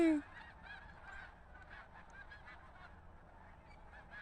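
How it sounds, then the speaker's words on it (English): Geese in a flying flock honk faintly and from a distance in a loose, scattered chorus over a quiet outdoor background. "Look at all the birdies. Look at all the geesies going."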